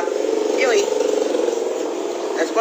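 A voice imitates a candle-powered toy pop-pop boat engine with a steady, rapid buzzing putter, held continuously for a couple of seconds, close and fairly loud.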